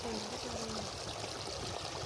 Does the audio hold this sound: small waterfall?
yes